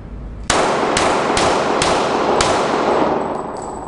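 Gunshots from a shooter testing a level 2 body armor vest to NIJ standards with 9mm rounds; five sharp, loud reports roughly half a second apart, each ringing out over a sustained bright noisy wash.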